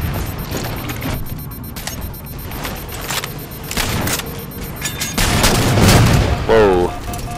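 Gunshots and explosive booms in Halo 4 Regicide on the Adrift map come in scattered bursts, fairly loud and close, with a voice talking over parts of the action.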